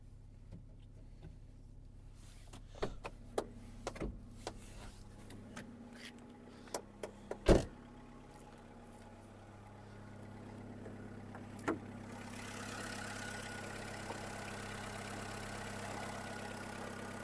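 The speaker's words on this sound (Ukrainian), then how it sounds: "Склопідйомники працюють." Electric power windows on a Skoda Fabia whir up and down at close range, with scattered clicks and a sharp thunk midway, then a steadier low engine hum sets in toward the end.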